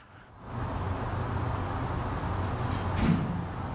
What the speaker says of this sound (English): Oh, the door's closing